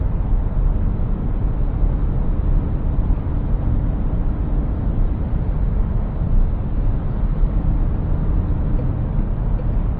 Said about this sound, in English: my point was for you to hear as well how good this car is soundproofed